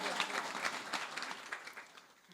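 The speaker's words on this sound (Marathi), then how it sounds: "शुभम दादा जाधव गादवड यांच्यासाठी एकदा जोरदार टाळी वाजवा" Audience clapping at a kirtan and bhajan gathering, a short dense burst of applause that starts strong and gradually thins and fades, heard alone without talking.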